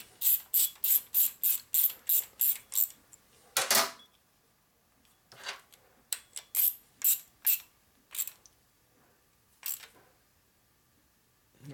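A ratcheting tool clicks in a quick run of about nine strokes as a screw on a Harley-style chopper motor is tightened to torque, then pauses before more spaced-out clicks and single ratchet strokes.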